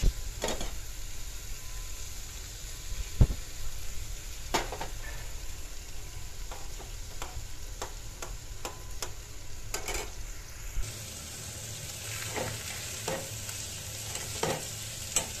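Egg frying in oil over a very low gas flame, with a steady soft sizzle broken by repeated scraping stir clicks, near and fairly quiet, with the hiss brightening toward the end.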